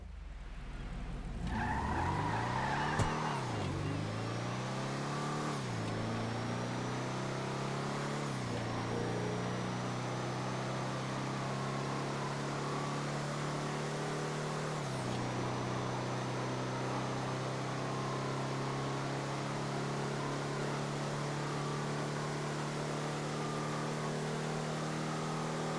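Albany Brigham car in a video game test drive, the engine revving up through several gear shifts with rising and falling pitch, then holding a steady loud drone with occasional tire squeal, no voices.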